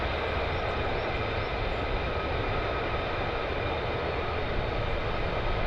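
A military jet taxiing on the ground at RAF Lakenheath, heard as a continuous, even engine roar and whine with no breaks, fairly loud and steady throughout.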